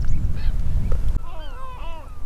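Wild birds calling in a coastal nature reserve on Île de Ré, France, likely geese honking: a run of clear, overlapping honks and cries, fairly close, over low wind rumble.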